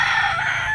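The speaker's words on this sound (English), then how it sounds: "They didn't tell you this place is loaded full of roosters" A rooster crows once, loud and close, a bright harmonic call held steadily for under a second outdoors near a rental studio apartment in an area full of roosters.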